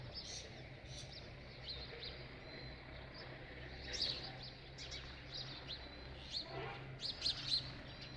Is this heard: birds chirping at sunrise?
yes